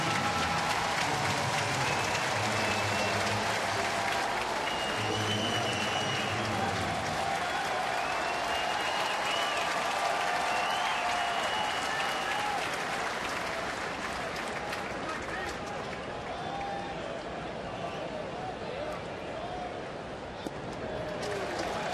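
A crowd at a baseball game between Atlanta and Cincinnati gives a long, sustained ovation of applause and cheering, a dense, broad wash of clapping that stays loud throughout while announcers talk over it.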